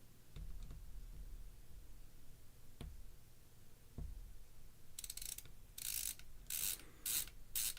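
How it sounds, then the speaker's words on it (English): Screws being backed out of a Steam Deck handheld: a few sharp ticks and clicks early on, then a run of bright ratcheting whirs from a small screwdriver in short bursts, close up and fairly quiet with no talk. "Next up, remove the 3 screws."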